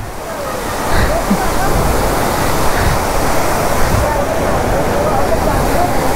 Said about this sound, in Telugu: వాటర్ ఫాల్స్కి అయితే వచ్చినాం.